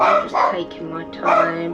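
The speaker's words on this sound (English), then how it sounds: "Sorry for the barking in the background." Dog barking in the background indoors, a few short yips and barks mixed under a nearby voice talking.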